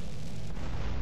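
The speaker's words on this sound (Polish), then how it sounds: "Oj, cudowne wybuchy!" Heavy rumbling explosions in the video game GTA San Andreas, a dense, loud, continuous boom filling the whole second with no voices.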